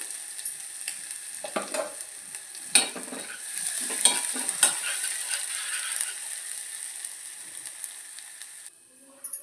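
Ground spice paste fries in two spoons of oil in a pot for tomato pepper rasam, with a steady high sizzle and scattered scraping stirs, close by and ending abruptly.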